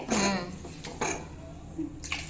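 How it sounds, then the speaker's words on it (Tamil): Water poured in small amounts into a ground tomato and onion paste with salt, heard as a few short, close splashy bursts separated by quiet gaps. "இப்போ இதுக்கு தேவையான தண்ணியை கொஞ்சமாக சேர்த்துக்கலாம்"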